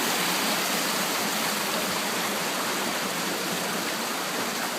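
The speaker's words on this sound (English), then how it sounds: "So this bit here is locally known as the Seven Waterfalls." Small waterfalls on the River Amber in Derbyshire's Amber Valley rush in a dense, continuous close-up roar of splashing water, with no voices.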